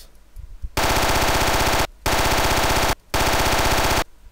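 Rapid bursts of M4 rifle fire from a DICE-style video game, three loud sustained volleys separated by brief pauses, each a dense stream of close, punchy shots.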